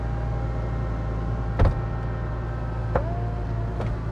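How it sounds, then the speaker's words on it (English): Rear window of a McLaren 570S Spider lowering, a low steady electric motor hum with a couple of soft clicks and a brief thunk as it moves, heard close and alone. "Put the back window down."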